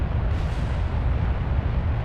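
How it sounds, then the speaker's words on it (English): Deep rumbling blast from a rocket explosion in Kerbal Space Program, a dense, steady roar lasting a couple of seconds with no talking. "Ugh, explosions."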